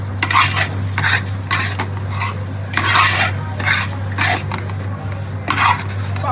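Rice stirred and fried in ghee for mutton biriyani, with repeated rhythmic scraping strokes of a spoon through the grains over a steady sizzle and a low hum, close and fairly loud, no speech.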